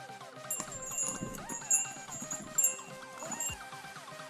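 A horse being ridden on a hillside trail in Murree, its hooves clip-clopping in an irregular walking rhythm, heard amid a busy outdoor mix of voices and other background sounds.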